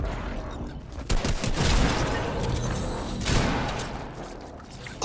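Heavy volleys of video game gunfire roll in dense bursts, with louder surges near the start and again midway through the short, busy stretch of combat.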